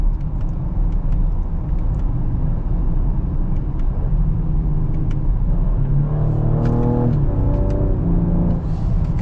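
A 2022 Ford Explorer ST in sport mode accelerates with a loud, steady engine drone and road rumble from inside the cabin, the pitch climbing through several gear steps toward the end.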